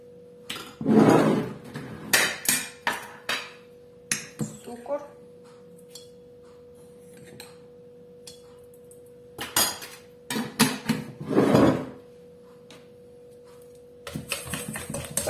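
Banana, chocolate and egg for pancake batter being stirred in a bowl, with a utensil knocking and scraping against the dish in loud bursts near the start and middle, separated by quieter stretches and some background clatter.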